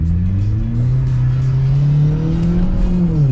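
A straight-piped Volkswagen car revs hard and accelerates, its loud, raw exhaust drone rising and falling in pitch close to the microphone with no one speaking.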